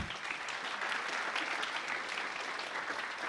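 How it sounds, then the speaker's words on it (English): Dense, even applause from a conference keynote audience fills the room continuously, a broad wash of many hands clapping at moderate volume without a break. "Applause, please."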